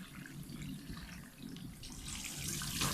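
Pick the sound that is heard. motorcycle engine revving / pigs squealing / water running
water running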